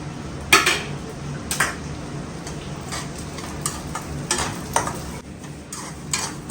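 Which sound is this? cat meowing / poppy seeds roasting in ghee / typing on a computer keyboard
poppy seeds roasting in ghee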